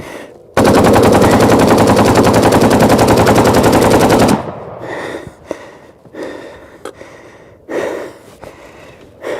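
A Russian AK-47 Kalashnikov rifle fires one long, loud, rapid automatic burst lasting about four seconds, then stops abruptly, followed by heavy breathing, gasps and faint shuffling.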